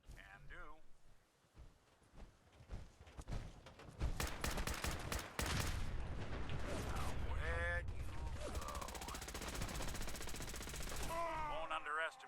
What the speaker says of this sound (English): I like Nick with a Gatling laser.